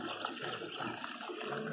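Water flushing steadily through a Yamaha outboard motor during a flush job, a continuous faint hiss and rushing splash with no talking.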